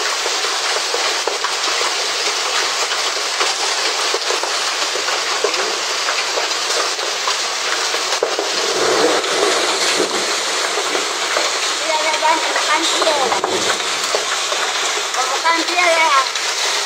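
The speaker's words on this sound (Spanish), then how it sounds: "Granizo, compadre." Hail pounds down steadily during a storm in Cuba, a dense, loud patter that continues throughout while people talk over it.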